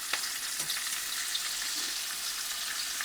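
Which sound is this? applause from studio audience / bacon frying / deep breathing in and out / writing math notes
bacon frying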